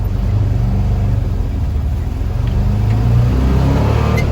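Steady low engine rumble of a 1978 Volkswagen bus with a rebuilt 2.0-litre engine driving along, a continuous droning hum with slight rises in revs, no talking.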